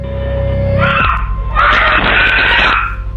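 Boys scream in panic, shrill overlapping shrieks that cut in over a low drone and carry loudly on for a couple of seconds.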